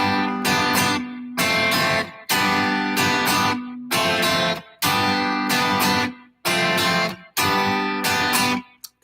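An acoustic guitar strums two chords with a small variation, bright full strums arriving in six even phrases separated by short silences, loud and close with no voices.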